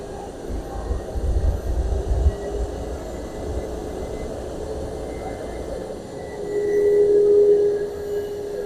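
Steady jet-like whooshing hum of a 1963 Chrysler Turbine Car's exhaust idling nearby, with a low rumble early on and a rising whine toward the end.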